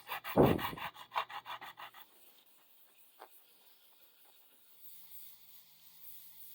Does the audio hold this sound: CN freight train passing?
no